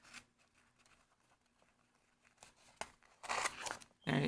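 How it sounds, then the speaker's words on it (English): Dull scissors snip through crochet yarn ends to trim shawl fringe: a few soft rustles, then two close crisp cutting bursts near the end. "I'm gonna take my scissors, come through, and we're just gonna cut the ends."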